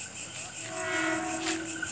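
Tokyo Metro 6000-series commuter train heading toward Nambo station, a brief mid-distance horn blast with a rumbling passing train beneath it, heard without talking.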